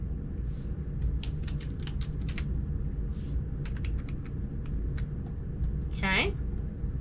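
A computer keyboard clacks in uneven bursts of quick keystrokes under a low steady room hum, with a short squeak-like sound near the end.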